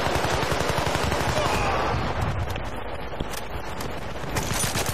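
Automatic M16 rifle fire in the Battlefield Bad Company shooter game, dense rapid bursts filling the first half and then thinning into scattered shots amid a steady battlefield roar, with no talk.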